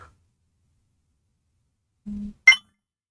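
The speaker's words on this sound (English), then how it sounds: "something's going off on my phone" A smartphone notification goes off during a Voron 3D printer upgrade build, a short low buzz followed by a brief bright chime in an otherwise silent room.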